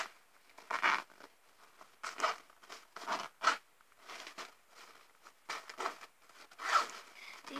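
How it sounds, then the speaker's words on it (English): Zippers on nested packages being tugged open, several short scratchy zipping bursts in a jerky, stop-start rhythm as the jammed zips catch, close and fairly quiet, with no talking. "These zips are not very good."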